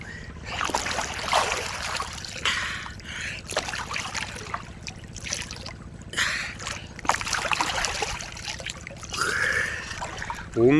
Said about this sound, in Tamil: ஆற்று தண்ணி ஓடிக்கிட்டு இருக்கு பாருங்கள்.